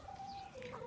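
Backyard chickens on grass pasture give a faint, brief cluck, soft and somewhat distant.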